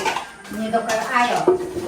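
A spoon clinks and scrapes against a pan as ground fenugreek and jaggery are mixed together, short metallic knocks close by under people talking.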